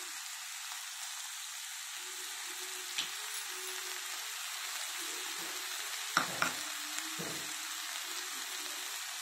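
Boiled chana dal with a little turmeric frying in a pan over a medium flame, giving a steady close sizzle. A few sharp scraping and clinking knocks of stirring come through, with no talking.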